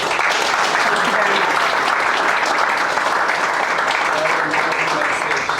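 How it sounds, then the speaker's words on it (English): A university audience gives a loud, sustained round of applause after a talk, thick continuous clapping from a crowd with faint murmuring underneath. "Round of applause, please"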